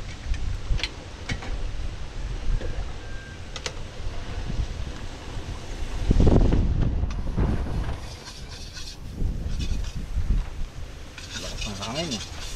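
Wind blows across an open farm field in steady, low rushing gusts that swell loudly around the middle, with faint rustles and small handling knocks nearby.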